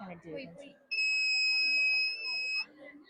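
A loud, steady electronic buzzer tone from a flood warning system signals a red danger level, sounding for nearly two seconds over background chatter, then cutting off as the voices continue.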